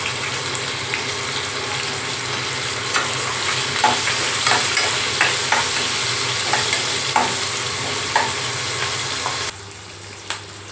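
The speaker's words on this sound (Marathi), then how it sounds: "हा कांदा टाकून घ्यायचा आहे कांदा टोमॅटो आणि मसाला टाकून घेणार शिजवून घेणार आहे" Onion with masala sautéing in a pan on the stove, a loud continuous sizzle with regular rhythmic stirring scrapes, close up and without speech, dropping to a quieter hiss near the end.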